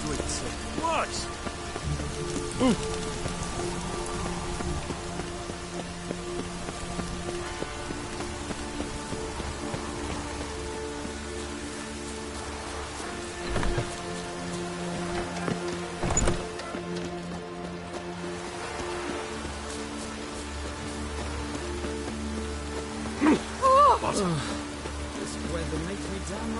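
Steady rain patters across the scene in the video game The Witcher 3, with a constant wash of drops, occasional louder splashes, and voices speaking now and then over it.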